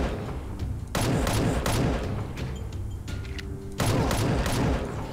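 Bursts of video-game gunfire hit zombies in GameGuru, with two dense, loud volleys of rapid shots separated by a quieter stretch of rumbling game ambience and faint effects.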